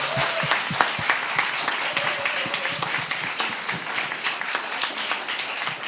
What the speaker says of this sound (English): Thank you very much. Round of applause.